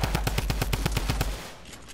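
Rapid overlapping gunfire in a Fortnite match, bursts from several players shooting, a steady loud rattle of shots for over a second that then cuts off, leaving only faint ambience.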